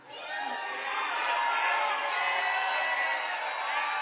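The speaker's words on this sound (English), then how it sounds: "The rousing applause going to that party." A large political rally crowd roars and cheers in a steady, dense wash of voices and whoops that swells early and holds loud and unbroken throughout.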